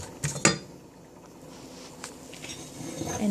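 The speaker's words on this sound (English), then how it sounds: "Give it a stir" A spoon stirs black-eyed beans in a pot, a couple of sharp metallic clinks up front followed by softer scraping and shuffling, close and quiet, with no voice.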